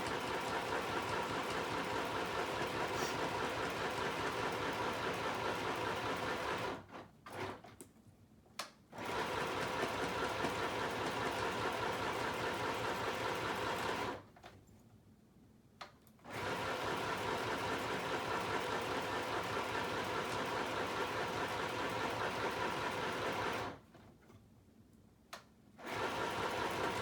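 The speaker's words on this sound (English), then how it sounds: "And now my sewing machine is catching." Sewing machine stitching a plastic window into a fabric folio, a steady loud mechanical whir running in three long bursts separated by brief pauses, with no talking.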